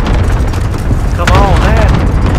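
An airstrike explosion in Call of Duty: Modern Warfare rumbles as a loud, sustained low boom with swelling roar and whooshing tones, close and heavy throughout the short stretch.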